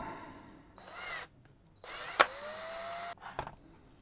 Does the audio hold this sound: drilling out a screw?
yes